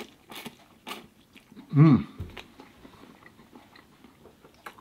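Someone chews a big mouthful of Pringles-flavored Japanese instant ramen noodles, with one loud close bite and soft mastication noises around it, followed by a brief murmur of approval.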